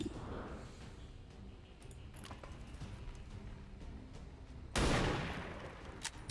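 A single sharp burst of gunfire cracks out near the end in XCOM Long War of the Chosen, loud and sudden over a quiet, low background hum.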